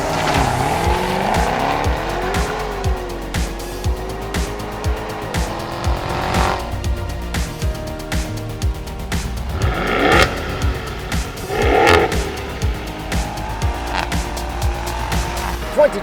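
A 2021 Maserati Ghibli Trofeo's twin-turbo Ferrari V8, 580 horsepower, roars and revs hard up close through straight pipes, the exhaust crackling and popping as the pitch climbs and falls repeatedly.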